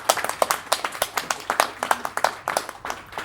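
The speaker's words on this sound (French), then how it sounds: "On peut l'applaudir." Rhythmic clapping from a small conference audience at Le Flow in Lille after a talk, individual claps clearly distinct in a steady beat and moderately close.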